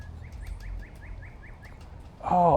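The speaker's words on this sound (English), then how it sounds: "It's a bird, a woodpecker right here." A woodpecker beside a Tennessee creek gives a quick run of about nine evenly spaced sharp calls, faint and a little distant, before a voice cuts in at the end.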